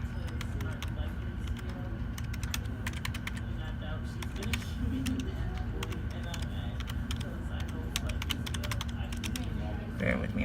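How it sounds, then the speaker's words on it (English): Quick, irregular keyboard clatter runs throughout at close range, with a steady low hum and a voice speaking underneath. "I'm typing with one hand."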